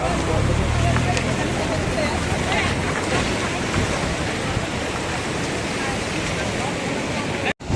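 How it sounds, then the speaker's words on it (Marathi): A loud, continuous roar of a river in heavy flood, broad and churning, with wind buffeting the microphone. "नदीवरती मोठ्या प्रमाणामध्ये पूर आलेला आहे"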